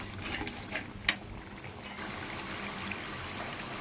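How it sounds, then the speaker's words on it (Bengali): Chopped garlic, about a cup, frying in a pan, a soft continuous sizzle and bubbling with a single sharp click near the start, quiet and close. "রসুনটা কিছুক্ষণ রান্না করে নেব, আমি একটু কষাই নেব রসুনটা"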